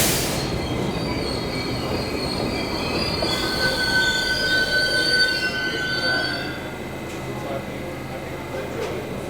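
A New York City subway Broadway Express train (N or Q) rolls in with loud, sustained high-pitched wheel squeals over a rumbling roar, easing off toward the end.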